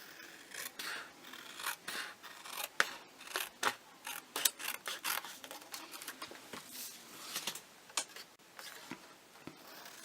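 Scissors snip through paper card while a pocket fold gift card is being made, giving a quiet, close run of quick crisp cuts and rustles at an uneven rhythm, with no talk.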